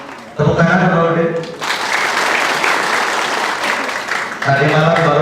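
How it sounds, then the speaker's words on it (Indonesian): An audience at a political meeting for a regional election bursts into loud, sustained applause that continues for several seconds, with a voice heard over it at the start and the end. "Tepuk tangan Pak Udin."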